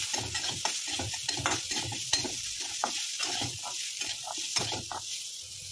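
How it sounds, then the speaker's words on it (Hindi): Onion frying in a pan with turmeric and salt, stirred with repeated scraping strokes over a steady close sizzle that runs throughout, with no voices. "अब हम इसको चलाएंगे अच्छे से।"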